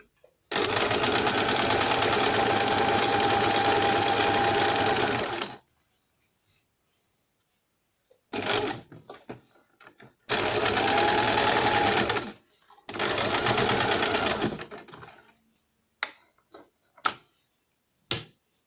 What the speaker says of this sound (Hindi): इसे हम इस तरह से सीधी सिलाई लगाएंगे